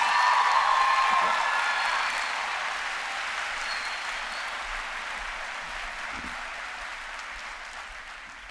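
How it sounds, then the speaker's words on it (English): A convention audience at a state FFA session applauds a keynote speaker, a loud, broad wash of clapping that starts strong and gradually tapers off over several seconds. "let's give one more round of applause for our keynote speaker, Mr. Jean-Paul Gonzalez"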